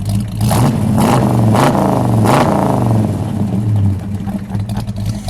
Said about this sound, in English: Go ahead, Dale, give it a rev. One more good one.